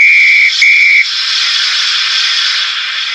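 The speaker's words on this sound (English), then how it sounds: "Number 9, conductor's whistle." A shrill, steady conductor's whistle blast, a model railway sound effect, sounds for about a second, then gives way to a continuous hiss of steam.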